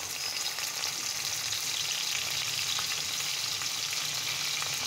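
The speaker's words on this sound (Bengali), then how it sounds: "আমি এখন পেঁয়াজ কুচি দিয়ে দিচ্ছি।" Chopped onions fry in hot oil in a pan for a beef curry, a loud, steady, close sizzle that runs without a break.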